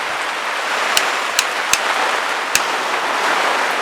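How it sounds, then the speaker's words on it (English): Steady rain falls outdoors as a dense, even hiss, broken by a few sharp ticks or drops landing nearby. "I think I might actually be getting rained out"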